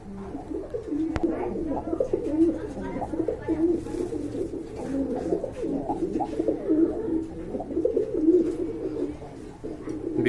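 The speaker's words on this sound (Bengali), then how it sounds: "এগুলো হাই ফ্লোর গিরিবাজ কবুতর" Giribaz high-flyer pigeons coo softly and repeatedly in low, rolling calls, a near continuous murmur of several birds.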